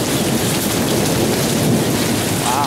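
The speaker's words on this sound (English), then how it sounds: "it's like solid rumbling up there. Sounds like a freaking train going through." Heavy thunderstorm with steady loud rain and continuous deep rumbling thunder rolling overhead, a dense unbroken roar throughout with no voices.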